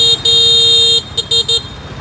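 Scooter horns honk in busy Vietnamese street traffic: a long steady blast followed by several short quick toots, loud and near, with traffic rumble underneath.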